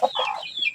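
A backyard flock of raised chickens gives one short, bright cluck that trails into a brief warbling call, close and clear with no voices.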